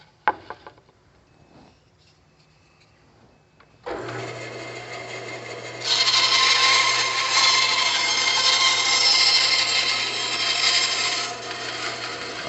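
A bandsaw switches on and hums steadily, then bites into a wooden board with a loud, sustained rasping cut along a marked line toward the board's midpoint, easing slightly near the end; no talking.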